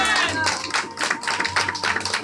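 A church congregation claps together in a dense wash of applause, steady and fairly close, with voices mixed in underneath.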